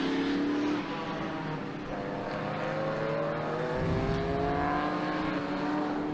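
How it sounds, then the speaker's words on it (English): Race car at a motorsport festival at Winton, driven at full throttle, its engine note climbing steadily through gear changes as it accelerates hard, loud and continuous throughout with no talk. "foot flat to the floor, trying to get as much horsepower out of that car as possible."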